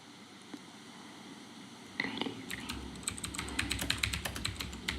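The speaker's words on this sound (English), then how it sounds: "stop typing" Rapid clicking of computer keyboard typing starts partway through, fairly close and steady, over a low background hum.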